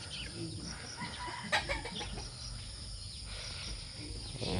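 Chickens clucking softly in a quiet outdoor setting, with a brief louder call in the middle and insects faintly buzzing behind.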